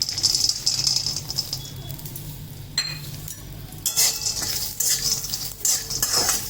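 Dry chillies, garlic, cumin seeds and peanuts being roasted in a pan for a sprouted green moong curry: a spoon scrapes and rattles steadily against the metal with a light crackle, and the scraping grows busier partway through, with no talking.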